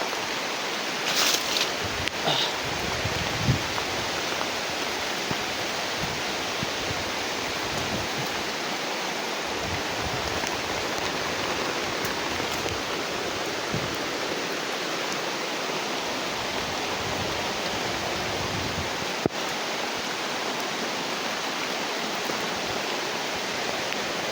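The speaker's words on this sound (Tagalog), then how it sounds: "May ulan po tol." Steady rain falls without a break, a dense, even hiss that holds at a soft level throughout, with a few faint knocks and no voices.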